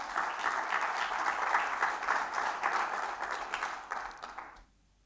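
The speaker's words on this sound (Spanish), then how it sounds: "Dele palmas al Señor si esto lo cree." Church congregation clapping for the Lord during a Spanish-language service, a sustained, lively round of applause that stops abruptly near the end, leaving near silence.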